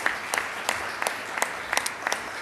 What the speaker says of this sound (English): let's give both of those wonderful companies a round of applause